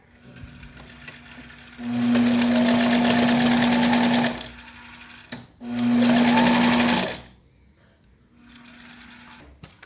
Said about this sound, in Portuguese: Passo a costura de segurança.